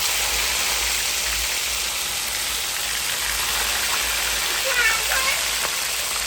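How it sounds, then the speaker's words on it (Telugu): Fish pieces deep frying in oil sizzle and crackle in a dense, constant roar, loud and close, with a voice briefly audible near the end. "ఇదే ఈ చేప ముక్కలు ఇలా వేసుకొని డీప్ ఫ్రై చేసుకోవాలండి"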